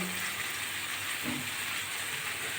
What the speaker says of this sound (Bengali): পেঁয়াজটাও আমি উচ্চের সঙ্গে ভালো করে ভেজে নেবো